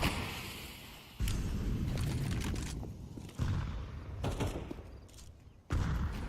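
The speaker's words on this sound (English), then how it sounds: "Oh, that shot with the P250." Gunfire in the competitive shooter Counter-Strike 2, including a P250 pistol: a few sharp shots with sudden loud onsets scattered through a busy, noisy match mix, with no talk.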